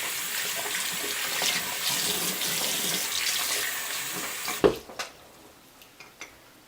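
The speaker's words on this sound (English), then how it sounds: "So make sure you get all the shampoo out of the weft, unfold it, rinse it." Water runs steadily from a tap while shampoo is rinsed out of a hair extension weft, a broad hiss that cuts off partway, followed by a few wet drips and splashes.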